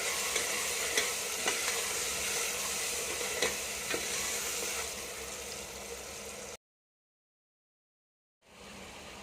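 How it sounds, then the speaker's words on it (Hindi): Garlic, ginger and green chili paste sizzles steadily in oil in a pan with a few scraping stirs, then cuts to silence before the frying resumes briefly. "हमारा लहसुन अदरक का पेस्ट हरी मिर्च का पेस्ट अच्छी तरह भुन चुका है"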